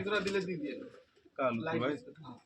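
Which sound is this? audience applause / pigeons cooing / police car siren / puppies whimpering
pigeons cooing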